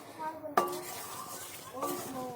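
Pumpkin morabba being stirred in a pan over a raised flame gives a sharp utensil clink against the pan, then soft scraping and a second clink, quiet and close.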